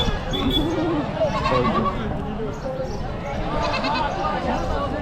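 Several goats bleat at intervals amid a busy crowd at a large goat and sheep market in Chakan, Maharashtra, near and loud, with people talking over the noise.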